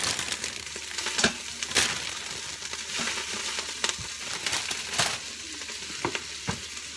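Kale sizzles and crackles on the sauté setting of an Instant Pot, a steady close frying hiss with sharp pops and occasional clicks of a utensil.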